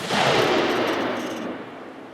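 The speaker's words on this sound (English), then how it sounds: "So here we have a Remington 700 titanium in 708, shooting factory 140 grain core locks" A Remington 700 titanium rifle in 7mm-08 fires one factory 140 grain Core-Lokt round, a single loud, close gunshot with a broad blast that rings out and decays slowly over about two seconds, with no talk.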